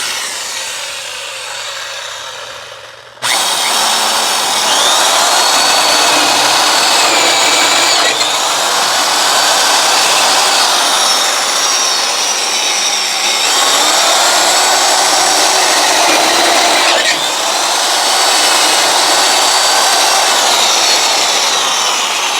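Power tool work on a Big block Chevy 454 Argo build, drilling holes in sequence: a loud, continuous whirring buzz that begins abruptly after a quiet start and runs steadily with slight pitch shifts, close and alone without talk.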